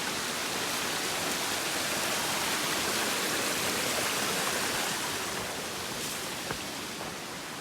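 Stream water flowing beside a Pacific Crest Trail hiking path, a dense continuous rushing wash that is close and steady throughout, slightly softening toward the end, with no talking.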